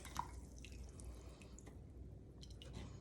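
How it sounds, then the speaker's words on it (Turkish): Liquid made from parsley stems and onion skins being strained, giving faint, sparse drips and trickles in a quiet kitchen, with no talking. "Bu şekilde güzelce süzüyoruz."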